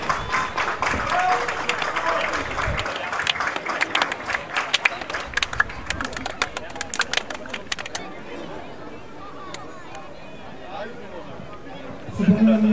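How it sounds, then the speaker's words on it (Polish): Crowd applause greets the two football teams and the referees at a Znicz Kłobuck versus AKS Mikołów match, steady clapping for about eight seconds and then thinning out, with a little chatter and a voice near the end. "Wielkie brawa, życzenia obu drużynom."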